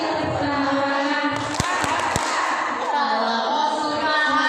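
An audience at a parenting seminar claps three quick, sharp times in rhythm, close and distinct, between lines of group singing that carry on around the claps.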